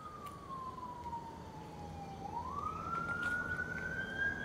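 An emergency vehicle siren, fire department or ambulance, wails at a distance, one long falling tone then a rising sweep, heard outdoors during a park walk over faint background noise.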